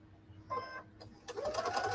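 A sewing machine stitches quilt fabric along a marked line in two short bursts, the second longer and louder, with quiet pauses between.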